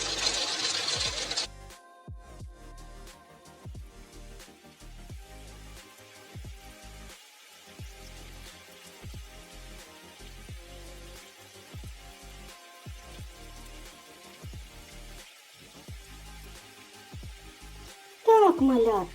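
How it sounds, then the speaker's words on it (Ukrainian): Hail falls in a dense, steady patter with irregular sharper hits throughout, and a brief louder noise burst at the start and end, and no speech in between. "Це звичайний град."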